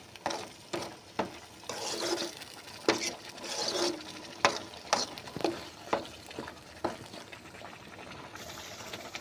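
Coriander and mint chutney being stirred with salt in a pan, a soft scraping and wet clicking of the spoon repeating irregularly over a faint sizzle, close and fairly quiet with no talking.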